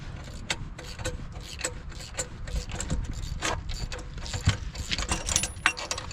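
Metal parts of a Ford 8N tractor clutch clank and rattle as the throw-out bearing is worked off, irregular close mechanical knocks and scrapes over a low rumbling background.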